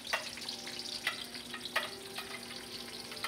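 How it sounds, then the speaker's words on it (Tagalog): Onions and other ingredients for pancit sauté in a hot pan, giving a steady, quiet sizzle with intermittent crackles and sharper spitting bursts as the food is stirred. "gigisa na natin tong mga ingredients"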